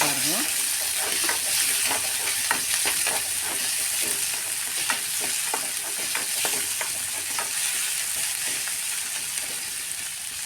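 Curry leaves and chopped tomato fry in hot oil for a village-style capsicum palya, a loud continuous sizzle with crackles and stirring scrapes throughout, close up and steady.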